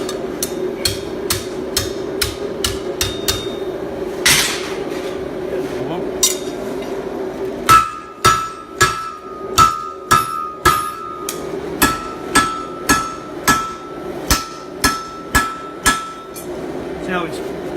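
Hammer forging flattens the end of a steel bar for a daffodil sculpture, ringing metallic blows in a steady run, spaced at first and then faster, close and loud over a humming workshop background.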